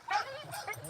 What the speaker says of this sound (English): see that crying, that whining, that is uh, excitement